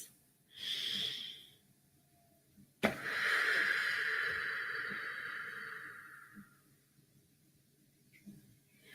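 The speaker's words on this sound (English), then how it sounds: "take a deep breath in with me" Slow deep breaths during a quiet evening guided prayer, a soft inhale followed by a longer, airy exhale, close and alone with no talking.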